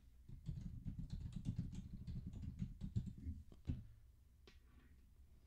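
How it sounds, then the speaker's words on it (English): Rapid keyboard typing clatters close by in irregular bursts of keystrokes, slowing to a few isolated taps. "You hear Sean typing."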